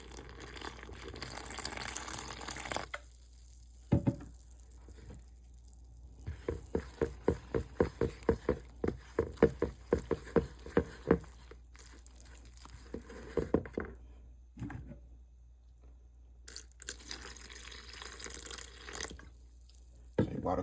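Water pours from a tap, then drips and trickles into a bowl for a flour-based wet batter for fried Cornish hens. A run of rhythmic splashes sits mid-clip, quiet and close, with brief pauses between bursts.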